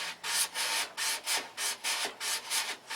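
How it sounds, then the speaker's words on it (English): Sanding a model aircraft fuselage with a small T-bar sander, about nine rhythmic back-and-forth rasping strokes, close and steady with no talking. "I just have made a small T-bar like this, and you sand around the fuselage."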